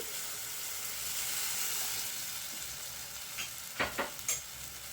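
Tamarind water and a little plain water go into a sizzling fish curry masala in a pan, giving a steady close hiss of frying with a few sharp stirring scrapes near the end; no talking.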